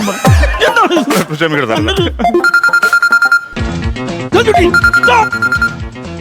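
A phone rings in a Malayalam comedy skit, with a loud, repeating electronic ringtone pattern and bright pulsing tones, broken by a short pause and accompanied by voices.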